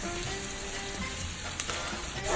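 Chopped onions and garlic frying in a caldero for Puerto Rican pork pasteles filling, a steady close sizzle throughout with a brief stir clatter near the middle and a louder burst at the end.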